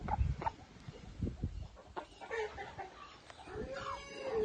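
Chickens cluck and murmur nearby in short, uneven bursts, with a few higher squawks and soft scratchy movement around them.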